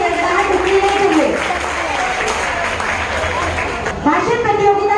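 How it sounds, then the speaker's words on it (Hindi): Sustained audience applause at a school Hindi Bhasha Divas prize-giving, dense steady clapping from many hands throughout, with a voice speaking over it. "तालियों की गड़गड़ाहट रुकनी नहीं चाहिए।"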